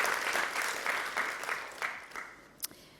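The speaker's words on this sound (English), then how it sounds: "Give yourselves a big round of applause." Keynote audience applause fills the room with dense clapping that fades out over a few seconds, a few last claps trailing at the end.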